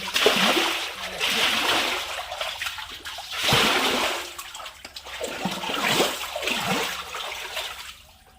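Water splashes and churns in a shallow stream as someone stirs up the water while fishing, a close, continuous sloshing with surging bursts that rise and fall through the whole stretch, heard without speech.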